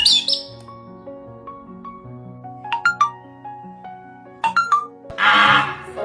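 A pet parrot gives a run of short whistles and chirps, with sharp squawks breaking in. A harsh, noisy squawk comes near the end. The calls are fairly close and come in uneven bursts.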